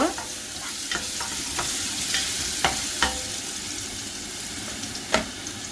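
Mustard seeds, a piece of cinnamon and white onion fry in oil, a constant close sizzle punctuated by sharp spoon scrapes and knocks against the pan at irregular intervals.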